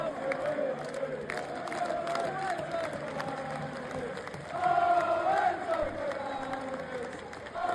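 A football stadium crowd cheers and chants for Enzo Fernandez, a broad roar of many voices with a rhythmic sung chant rising and swelling midway, heard from a distance.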